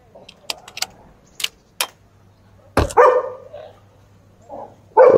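Dogs barking outdoors, a few scattered distant barks followed by louder, closer sharp barks, with faint clinking in the background.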